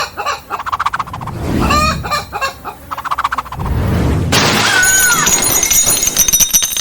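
A chicken being swung around a tabernacle clucks and squawks in loud, agitated bursts. Clattering and background noise run beneath it, and the sound shifts partway through into a steadier wash with high squawks.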